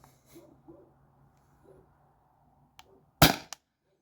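A Beeman BP50 less lethal launcher fires once after pressurizing, a sharp, close pop that stands out after a few quiet breaths and small handling sounds.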